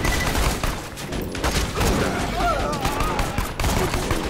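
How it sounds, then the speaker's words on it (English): Gunfire in Borderlands 2: a loud, steady barrage of rapid shots and blasts, with game effects mixed in throughout. "Oh, shot him in the head."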